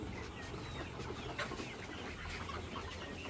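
Parent-stock hens and roosters, including black birds kept for hatching eggs on a poultry farm, cluck steadily in a dense, continuous chorus close by with no talking.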